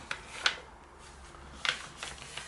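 Gelli print paper being folded gives two short, crisp papery rustles close by, with a quieter handling sound in between.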